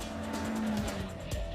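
A boy racer's car revs hard and blasts into an expressway lane beside a merging truck, a loud close engine roar with a brief tire squeal, brisk and continuous throughout.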